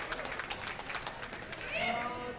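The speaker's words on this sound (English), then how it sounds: "Big round of applause to Michael Ho" Squash spectators in a tournament arena applaud a player after a quarterfinal match, a steady dense wash of clapping that continues at moderate loudness for a couple of seconds.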